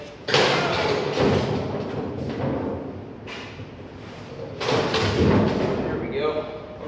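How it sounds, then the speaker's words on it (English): A boat fuel tank, one of twin 148-gallon tanks in a 1996 Wellcraft, being scooted across a shop floor, giving several heavy thuds and scraping bumps, loud and close with short pauses between. "Scoot this tank over a little bit."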